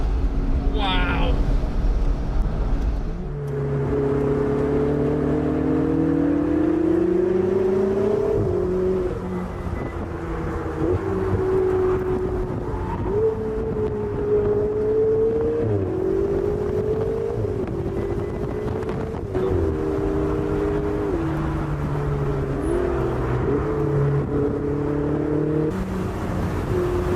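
A McLaren sports car's engine drones loud and steady, rising and falling in pitch through gear changes as it climbs the fast Jebel Jais mountain road in the UAE, with wind buffeting the microphone.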